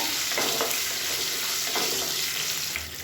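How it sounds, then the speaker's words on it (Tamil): Whole small onions sizzle and fry steadily in hot oil for a hotel-style ground-masala tiffin sambar, a constant close crackle with occasional stirring scrapes and no voices. "இது எல்லாமே பொரியவும் ஒரு 10 சின்ன வெங்காயம் சேர்த்துக்கலாம்"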